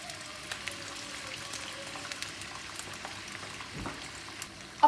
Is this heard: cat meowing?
no